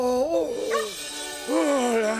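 A cartoon dog in a French Fireman Sam episode lets out two loud, drawn-out yelping whines that bend up and down in pitch, heard alone and close.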